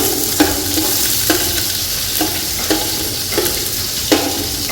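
Food frying and sizzling steadily in a hot pan during home cooking of a Friday meat meal with garam masala, with a loud continuous sizzle and a spoon scraping and stirring at regular intervals, alone with no talk.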